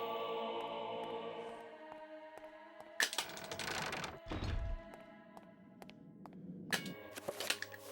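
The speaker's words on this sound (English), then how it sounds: "I shoot kind of through the wall because I shoot the trapper that was farther away" Sharp gunshots in the survival horror game Eternal Darkness: Sanity's Requiem: a few punchy, isolated bangs and clacks separated by quiet stretches, with no talking.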